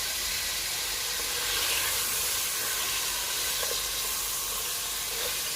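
Steady, loud hiss and sizzle of ginger garlic paste frying in a pan for chicken korma, a continuous bright crackle without pauses and no talking.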